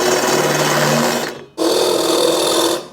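A drill whines steadily while boring holes in a metal snowblower impeller, stops briefly, then starts again, buzzing loudly and close throughout.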